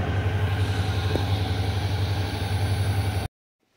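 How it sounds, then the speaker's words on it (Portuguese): A Suzuki V-Strom 650 XT motorcycle engine idles with a low, steady throb, close and constant, then cuts off abruptly into silence. "você vê que até o barulho do motor modifica"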